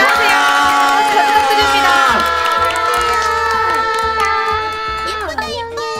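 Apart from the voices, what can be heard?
crowd applauding and cheering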